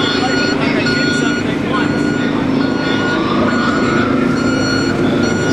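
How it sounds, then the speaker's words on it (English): Sanitation truck backing up with steady reversing beeps during a late-night police clearing of a protest encampment at Liberty Square, under constant crowd noise and talk. "Sanitation trucks are being brought here for the"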